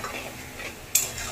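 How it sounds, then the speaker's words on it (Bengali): Masala being stirred and sautéed in a pan with a little water, a soft close scraping sizzle broken by one sharp metallic clink of a utensil against the pan. "মশলাটাকে 1 মিনিটের মতো ভালো করে কষে নেব"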